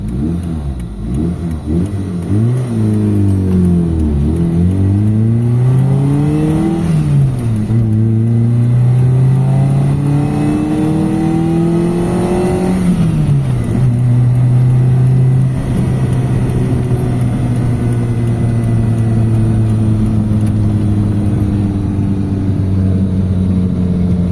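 A car engine revs and pulls hard on a test drive after repair work, climbing through several gear shifts with rising and falling tones, loud and continuous with no talking.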